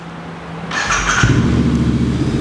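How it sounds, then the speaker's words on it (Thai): A 2021 Royal Enfield Interceptor 650 twin with an unbranded Thai-made aftermarket exhaust starts up and settles into a deep, throbbing idle, close and loud after a brief mechanical whir. "มาเดี๋ยวเรามาฟัง ท่อแต่งคันนี้กัน"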